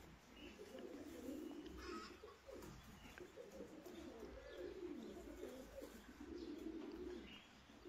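Fancy pigeons, including Uzbek and long-face breeds with a squab, cooing in low rolling phrases close by, with faint chirps and rustling in the background.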